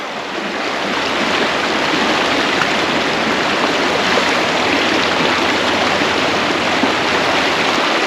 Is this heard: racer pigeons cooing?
no